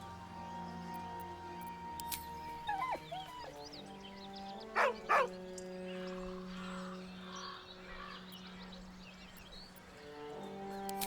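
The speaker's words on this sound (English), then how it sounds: "With a deep, heartbroken whine, the dog bows his head." A dog in Baldur's Gate 3 lets out a few short, high whines and whimpers over a low game music drone, with two louder yelps midway, then the music carries on alone.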